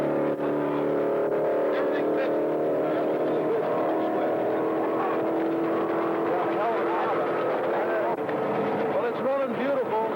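An AMX race car engine runs steadily with a continuous layered drone, and voices can be heard over it.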